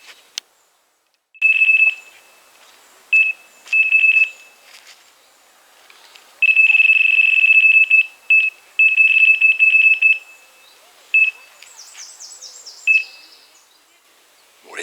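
An electronic fishing bite alarm at a lakeside carp swim, set off by bream bites, gives short runs of shrill beeps and one long continuous tone, separated by near silence, close and loud.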